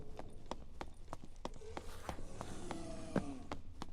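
Running footsteps in the dungeon game Dark and Darker, a fast, even series of sharp thuds about four per second, close and clear over a faint background rumble.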